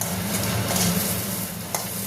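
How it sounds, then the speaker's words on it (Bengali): Lentils and broken wheat frying with spices in a pan, a steady soft sizzle with stirring scrapes running throughout, close and moderately loud, with one sharper scrape near the end. "ভাজা হয়ে গেছে ডাল, ডালিয়া সব একসাথে।"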